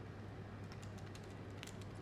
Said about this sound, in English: Trill keys, nice and bouncy.